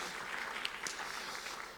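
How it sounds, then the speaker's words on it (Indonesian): Congregation applauding during a Sunday morning Pentecostal church service in Gorontalo, a fairly quiet, steady wash of hand claps lasting under two seconds with no voices over it. "kita berikan tepuk tangan buat Tuhan Yesus."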